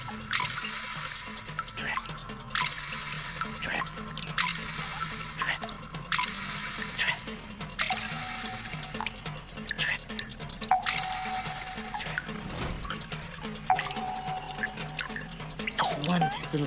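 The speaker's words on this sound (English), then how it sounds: "One drip at a time." Water drips in a cave, repeated drops falling at an uneven pace with a faint splashy trickle behind them, fairly near and set under a continuous backing of music or ambience.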